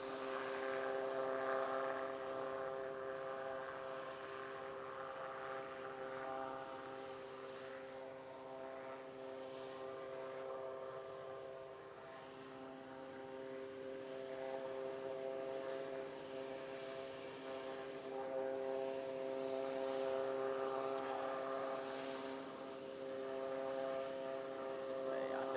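A Qatar airliner at Manchester Airport, a steady distant engine drone with a sustained hum that swells and fades slightly, faint beneath the ambient background.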